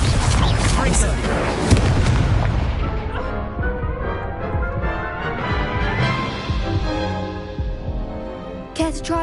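Incendio fire spell cast during combat in Hogwarts Legacy, heard as loud, dense bursts and booming impacts layered over a busy game soundscape, fading slightly before a sharp burst near the end.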